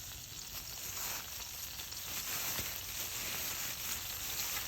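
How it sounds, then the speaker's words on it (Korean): Olive oil sizzles in a heated frying pan at an autumn seaside campsite in Taean, a steady close hiss that runs unbroken throughout. "달궈진 후라이팬에 식용유를 좀 넣고요."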